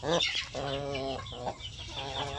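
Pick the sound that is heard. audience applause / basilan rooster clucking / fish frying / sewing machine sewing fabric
basilan rooster clucking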